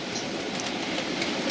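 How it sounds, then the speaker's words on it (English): A model Class 31 locomotive fitted with a ring field motor and hardwired decoder runs along the track, giving a steady, continuous mechanical whir and rattle at close range with no talking. "this old class 31 has got a ring field motor in it"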